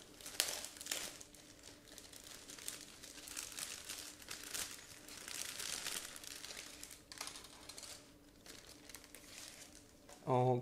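Plastic bags holding sprues of a 1/72 scale MiG-21UM model kit by Kovozavody Prostejov are opened by hand indoors, giving continuous close crinkling and rustling with a few sharper crackles, and a voice briefly at the end.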